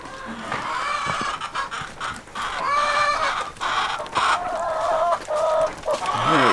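Chickens in a coop on a snowy homestead cluck and squawk continuously, several birds close by, their calls overlapping in a busy, noisy chatter.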